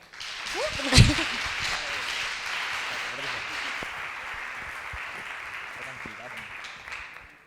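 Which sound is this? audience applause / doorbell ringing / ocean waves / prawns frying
audience applause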